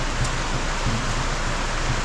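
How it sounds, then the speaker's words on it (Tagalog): Heavy rain falls steadily as a dense, unbroken hiss, loud and constant throughout with no voices over it. "Grabe, ulan."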